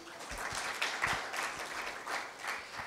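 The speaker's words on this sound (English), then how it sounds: "Please give them a round of applause." Audience applause at a corporate investor briefing, a brief, moderately loud burst of many hands clapping in a room, steady for a few seconds with no speech over it.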